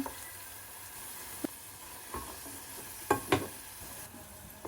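Meat and vegetables frying in a pan for a home-cooked beef dish, a steady soft sizzle with occasional stirring scrapes and clinks standing out, no talking.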